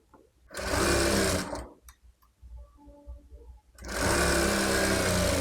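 A sewing machine stitches a baby frock in two loud, steady runs of rapid whirring, separated by a quieter pause with faint handling clicks.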